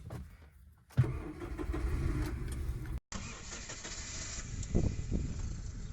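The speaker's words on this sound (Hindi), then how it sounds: "मैं आपको सेल्फ की आवाज़ सुनाता हूँ" A Maruti Suzuki SX4 sedan's starter cranks briefly, then the engine catches and settles into a steady idle, recorded up close with no talking.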